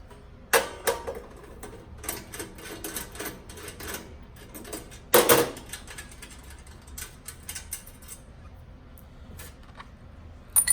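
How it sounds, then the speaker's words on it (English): Small metal clicks and ticks come from a hand tool loosening the blade bolts on a newly unboxed MS-03 by CCONLY. The taps are irregular and close, with one louder clack midway. "Use the tool provided to remove the bolts."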